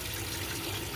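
Water pouring steadily into a washing machine drum that won't drain, a continuous close rushing fill with no break.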